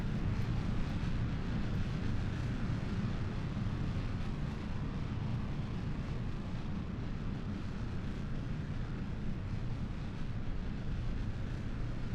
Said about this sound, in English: we are go for launch in 5, 4, 3, 2, 1, and liftoff